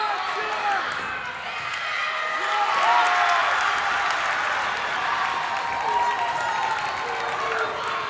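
Crowd at a girls' volleyball playoff between Durfee and Whitman-Hanson, cheering and clapping from both sides in a gym. The noise swells and dips and carries on throughout, with voices mixed in.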